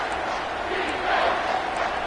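A home crowd at a college football game roars during a third-down defensive stand, a dense steady wall of cheering and shouting that swells slightly midway.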